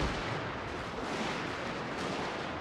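Continuous musket volleys from infantry regiments in a Total War game battle of the Anglo-Zulu War at Isandlwana, a dense, rolling crackle of massed gunfire with no clear breaks, loud and steady throughout.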